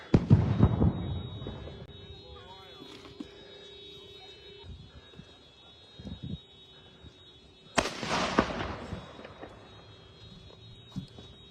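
Sharp snaps and deep booms of car batteries exploding burst out at a distance, one big blast standing out midway, with quieter crackles and faint background hum between.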